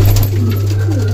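A homer pigeon coos close to the microphone in a short, soft burst over a steady low electrical hum.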